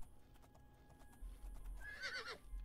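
Shadowmere, the immortal black horse in the video game Oblivion, gallops with quick, faint hoofbeats and then gives a clear, shrill neigh near the end, with no talk over it.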